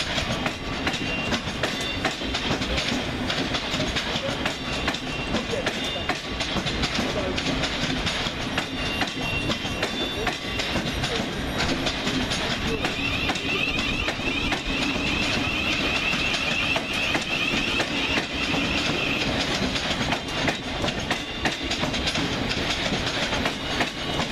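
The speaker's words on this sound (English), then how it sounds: "taken by surprise by 700 125, departing with 1343 Govia Thameslink service to Cambridge via London St Pancras International" A Govia Thameslink Class 700 electric train pulls out of Brighton station, its steady motor whine and wheel clatter over rail joints rolling on for many seconds at moderate distance, with no voices.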